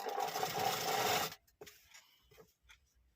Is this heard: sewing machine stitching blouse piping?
yes